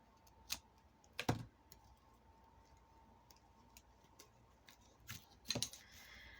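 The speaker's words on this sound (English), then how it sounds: "let me just cut this off" Scissors snipping a CD sleeve during a quiet craft session, a few faint, sharp clicks spaced across a few seconds over a low background hum.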